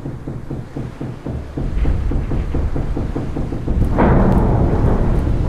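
A thunderstorm at sea in a PC video game, with thunder rumbling loudly, steady heavy rain and a rising surge of storm noise near the end, and nobody speaking.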